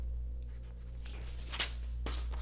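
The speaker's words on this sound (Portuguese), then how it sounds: "Faço algumas marcações e fecho esse retângulo inicial." A pen or marker scratches short strokes and marks across paper while a sewing pattern for a long knit vest is drafted. The sound is close and soft over a low background hum.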